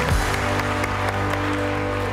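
A live audience claps at a comedy show, a dense, steady patter of many hands that carries on for a couple of seconds at moderate loudness.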